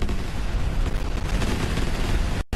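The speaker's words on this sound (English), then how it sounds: "I think it might actually be a big explosion." A loud, dense explosion roars and rumbles continuously in Fallout 4, a sustained blast that cuts off abruptly near the end.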